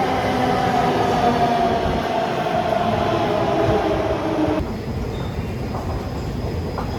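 A metro train rumbles loudly and steadily at Kalkaji Mandir metro station, a close, continuous roar of wheels and carriages that drops to a quieter hum near the end, with no talking.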